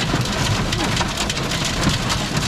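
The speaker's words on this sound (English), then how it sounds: "Pretty thick hail going on right now." Thick hail and heavy rain pound down in Medellín, Colombia, a dense, loud, steady hiss with sharp patters running without a break and no voices.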